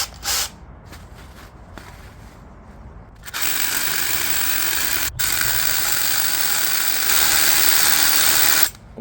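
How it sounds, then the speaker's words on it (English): Drilling pilot holes into bedrock with a power drill for a hand-built retaining wall: a few short bursts, then a loud, sustained grinding whine near the mic that runs almost unbroken for about five seconds before stopping. "When you're drilling in rock, you'll be generating a lot of this really fine rock dust"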